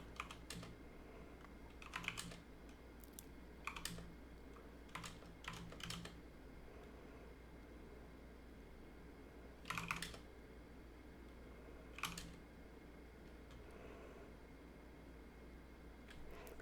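Faint computer keyboard typing in a few short scattered bursts, close but quiet over a steady low fan hum, with long still gaps between keystrokes.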